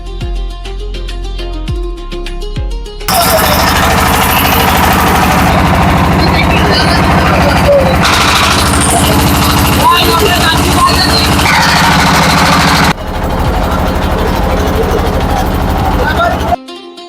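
An engine-powered hired boat at Lalakhal's Sarighat starts up after a quieter opening and then roars loudly and steadily close by, its harsh throbbing drone filling the rest of the time.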